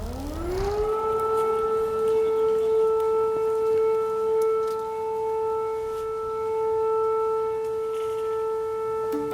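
A civil defense air raid siren sounds during a morning queue outside a social protection office in Ukraine. It rises in pitch, then holds a loud, steady wail for several seconds.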